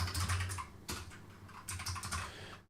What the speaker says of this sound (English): I've gone sort of mostly used to my new keyboard now, and I do like the clickety clackety sound.